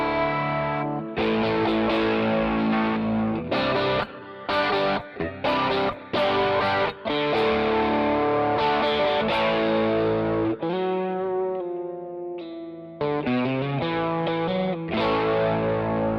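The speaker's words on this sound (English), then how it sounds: "Let's flick this chorus on another listen on this." Guitar tone with a chorus effect switched on, heard as a shimmering, slightly detuned sound across strummed chords and short picked phrases with brief pauses, at moderate volume and with no talking.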